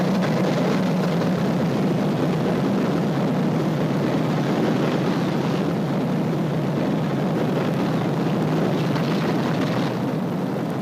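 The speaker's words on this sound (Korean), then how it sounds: "최초의 원자폭탄을 실은 폭격기 이놀라 게이가 일본을 향해 이륙했습니다" The propeller-driven bomber Enola Gay takes off from Tinian Island in 1945, its engines holding a loud, steady, heavy drone for the whole stretch, with no voices.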